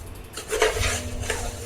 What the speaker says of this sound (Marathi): आता मिक्स करून घेऊया कंटिन्यू चार ते पाच मिनिट असं मिक्स करत राहायचं